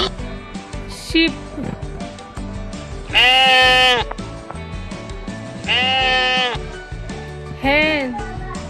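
Several loud, wavering sheep bleats ring out, three main calls spaced a couple of seconds apart, over a low murmur of background noise.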